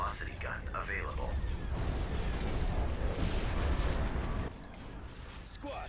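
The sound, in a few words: hypervelocity cannon firing in Star Wars strategy video game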